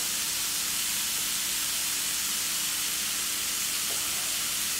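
Beans and potatoes cooking in a pan give off a steady, loud sizzling hiss that stays constant throughout with no speech, while any stirring is buried under the hiss.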